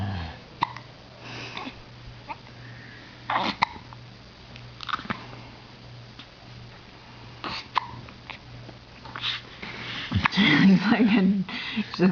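Two-week-old baby hiccuping, giving short sharp hiccups and sniffs spaced irregularly, close but soft, with people talking quietly in the background and a louder stretch of noise near the end.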